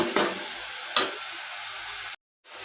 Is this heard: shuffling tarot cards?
no